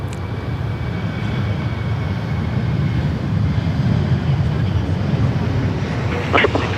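A jet airliner at Sydney Airport sits on the runway before takeoff, its engines giving a steady low rumble with wind noise, moderately loud and fairly distant.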